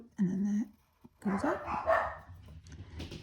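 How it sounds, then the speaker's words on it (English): Dogs bark in short bursts in the background while a person speaks over them, the barking intermittent and moderately near. "pardon my barking dogs"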